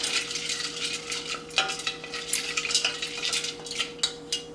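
Ingredients for a homemade milk steamer are stirred in a pan over medium-high heat as they melt, giving a soft continuous sizzle with light scraping and utensil clicks, close and steady, no voices.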